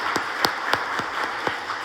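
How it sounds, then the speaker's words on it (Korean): Scattered applause in a church after a choir hymn, a handful of uneven claps rising from a small congregation over a couple of seconds. "우리 하나님께 영광의 박수 올려드리도록 하겠습니다"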